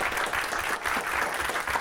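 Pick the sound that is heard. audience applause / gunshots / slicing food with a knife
audience applause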